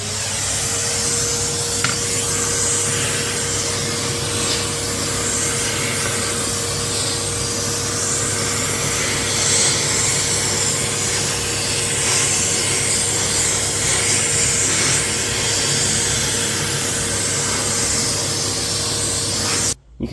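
Vacuum cleaner held just above a computer keyboard to clean it, a loud continuous hissing suction roar with a steady motor whine, running alone without break until it cuts off at the very end.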